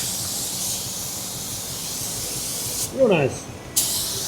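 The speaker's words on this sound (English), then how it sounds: "Alrighty, let's see how this sprays." Black chassis paint sprayed during a Ram restoration, a broad steady hiss filling most of the clip close up, with a brief voice near the end over a short pause in the spray.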